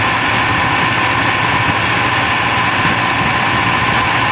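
Air conditioner compressor running nonstop without cycling off, a loud, steady close-up hum and drone with no breaks.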